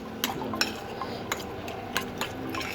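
A spoon clinks and scrapes against a bowl while salt, red chilli and garlic are mixed for a tempering, with several sharp metallic taps at irregular intervals over a soft background.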